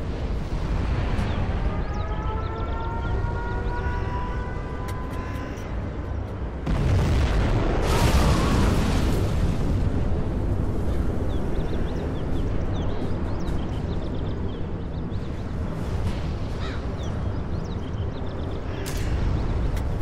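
Nuclear missile launch in Command & Conquer Generals Zero Hour, a long rumbling roar under rising tonal sweeps, swelling into a louder blast partway through and then continuing as sustained low rumble with scattered crackles.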